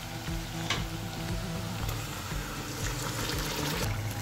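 Crushed vegetables sauté with onions, salt, pepper and a garlic, ginger and turmeric mix in a pan, making a soft, continuous hiss with a few faint stirring knocks. It is fairly quiet, close and unbroken by talk.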